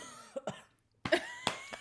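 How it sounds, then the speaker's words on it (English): A person coughs two or three times in short, sharp bursts, close to the microphone in a quiet indoor setting, with a brief silence between the first and later coughs. "it's the first cough of the episode"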